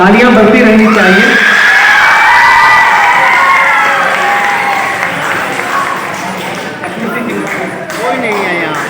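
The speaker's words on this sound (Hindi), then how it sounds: "तालियां बढ़ती रहनी चाहिए।" A crowd at the Darbhanga International Film Festival applauds loudly and steadily, with cheering and shouting voices mixed in the whole way through.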